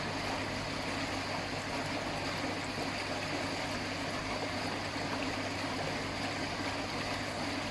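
Water churns steadily through an Evolution Aqua Eazypod pond filter during a media rinse, giving a constant rushing, bubbling wash with a low hum beneath.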